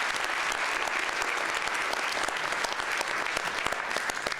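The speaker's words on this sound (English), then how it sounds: "Let's give them a round of applause," An audience at a civic election candidates forum in Lethbridge applauds continuously, a dense, even wash of many hands clapping close by with no break.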